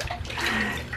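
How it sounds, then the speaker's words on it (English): A baby splashes water in a bathtub, a brief burst of sloshing and dripping water up close, busy and fairly loud for about a second. "He's just splashing everywhere. Going crazy, having fun in the bathtub."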